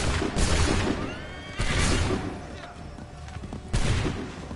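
Musket volleys fire in Assassin's Creed 3 as three loud, broad crashes spaced a couple of seconds apart, with horses whinnying and battlefield noise continuing between them.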